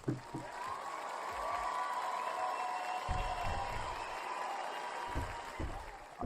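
Applause from a small crowd, fairly faint and steady across the whole stretch, with occasional low thumps and a faint tonal hum mixed in, no clear speech on top.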